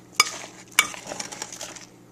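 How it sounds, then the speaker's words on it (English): A spoon stirs Waldorf salad of celery and apples in a bowl, with two sharp clinks against the dish followed by a softer, wet mixing rustle that fades out. "And then we're just going to start stirring"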